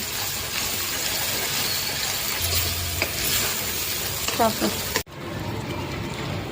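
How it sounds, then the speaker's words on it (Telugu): Dried red chillies and curry leaves stirring in hot oil for tomato pickle, a steady frying hiss with a few utensil scrapes and clinks, ending in an abrupt cut. "ఎండుమిర్చి, కరివేపాకు వేసుకోవాలి. వేసుకోవాలి. కాసేపు కలుపుకోవాలి."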